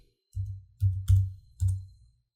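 Computer mouse clicking during video editing work: four soft, low muffled clicks in quick succession, faint and close, in quiet surroundings.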